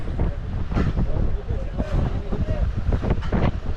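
A boat pounds through choppy nine-foot waves in the West Philippine Sea with wind roaring across the microphone, splashes and thumps rising and falling, while a voice speaks faintly beneath the noise.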